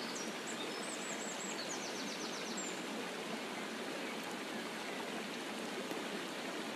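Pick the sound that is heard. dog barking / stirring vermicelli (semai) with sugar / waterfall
waterfall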